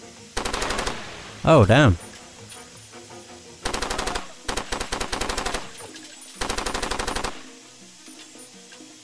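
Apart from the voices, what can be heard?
gunfire in the video game Far Cry 2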